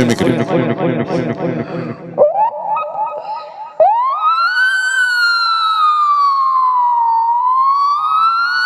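A voice mimics an ambulance siren: rapid warbling wails give way to long rising and falling tones, loud and close, with no other sound.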